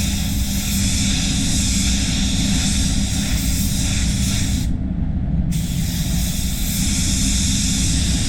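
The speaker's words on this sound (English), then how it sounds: "what I'll do is just do a duster, just to get the metallic sort of sitting even" A SATA spray gun hisses continuously and loudly as it lays a light duster coat of metallic base paint, with one brief pause in the spray partway through.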